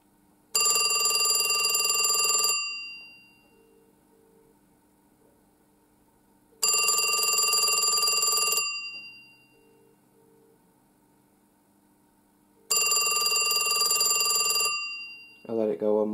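A 1978 Western Electric Design Line Mickey Mouse telephone bell rings loudly in three long bursts with pauses between, bright metallic tones ringing out alone, followed by a brief clatter at the end.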